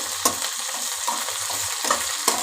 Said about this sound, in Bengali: একটুখানি নেড়ে নিচ্ছি তেলের ওপর শুকনো লঙ্কা